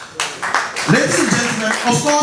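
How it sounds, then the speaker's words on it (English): Audience clapping builds after a short pause at a community election debate, a brief burst of applause under a speaker's voice on the microphone. "Please a round of applause."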